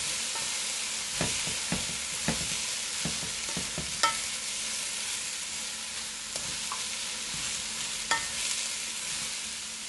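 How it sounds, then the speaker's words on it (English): Chicken chop suey fries in a pan as it is stirred, a soft steady sizzle broken by a run of utensil scrapes and taps, close up, with no voices. "I'll just stir these."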